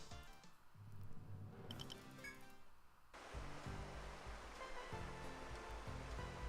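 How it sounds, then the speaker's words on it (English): Water sound effects from the video game Etrian Odyssey 3, a soft rushing splash that swells after a brief lull, joined by quiet game music and chimes, faint and without speech. "I love Etrian 3 having these little sound effects for the water"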